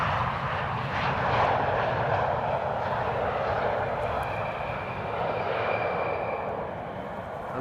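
An airliner landing at Amsterdam Schiphol Airport roars steadily and loudly, a broad jet engine rush that swells and slowly fades over several seconds with no talk.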